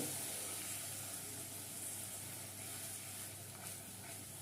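Hot water is poured into spiced masala frying in a pan for a katla fish curry, producing a steady, close hiss of sizzling and steam that holds for several seconds with no talking.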